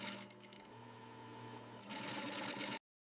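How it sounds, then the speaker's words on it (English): A sewing machine stitching the sleeves of a python leather jacket hums steadily close by, its whir shifting and growing louder partway through before it cuts off abruptly. "Sleeves require constant rotation to preserve uniform stitching along the curve."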